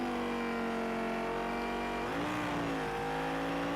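A Lamborghini LP610-4 engine in Project Cars 2 held steady on the pit limiter, a constant buzzing drone with a brief pitch dip and rise partway through, alone and moderately loud.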